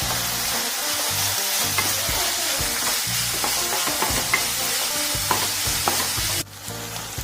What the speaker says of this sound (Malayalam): കുറച്ച് കറിവേപ്പില ചേർത്ത് കൊടുക്കുന്നുണ്ട്.